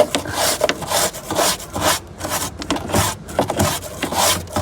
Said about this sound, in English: I think this is a nice job for the old spark plug brush, just to get the shite out and see what we're playing with here